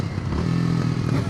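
A 2025 Kawasaki W230 retro motorcycle rides at about 35 mph, its single-cylinder engine thrumming loud and close with a brief shift in pitch as it downshifts.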